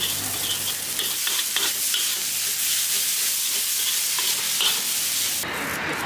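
Rice noodles being stir-fried in a wok at a roadside food stall, a loud, steady sizzle with scraping and tossing of the spatula throughout, ending with a sharper hiss.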